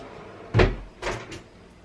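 An apartment door is pushed shut: a solid thump followed by a lighter latch click and a small rattle, close by and without speech.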